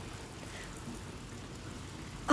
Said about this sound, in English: I don't know what the rain is hitting up there